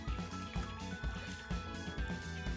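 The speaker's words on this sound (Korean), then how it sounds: "진짜 파도처럼 일정한 간격으로 해변에 부딪히고 있어" Small water waves made in a sand-beach model experiment, rhythmic sloshing and lapping at regular intervals, close and soft, with a steady electronic tone running underneath.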